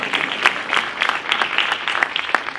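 Sustained audience applause at a university lecture, dense and steady clapping from a crowd for about two and a half seconds with no talking over it.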